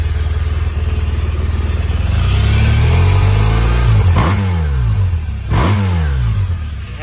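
BMW R1200RT touring motorcycle engine revving close by, two sharp throttle blips rising and falling over a steady loud idle, with no talking.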